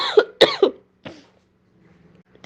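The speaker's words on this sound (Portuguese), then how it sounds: "Tem que parar um pouco para tossir." A woman coughs three times in quick succession, close and sharp, followed by a softer fourth cough and a faint throat sound, with quiet pauses between.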